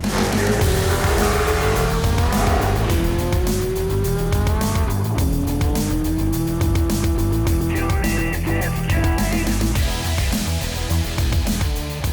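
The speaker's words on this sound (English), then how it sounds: "That's a 1972 Mazda RX3. Yep, it's a vintage race car now, and this is the 2-minute test drive." A 1972 Mazda RX3 rotary-engined vintage race car screams close by, revving up and down through gears with tires squealing, loud and continuous, no talking.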